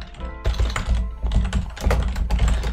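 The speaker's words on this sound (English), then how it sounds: "I'm just going to type initial commit." Typing a git commit message on a computer keyboard: quick clusters of close, crisp key clacks in short bursts, with no talking.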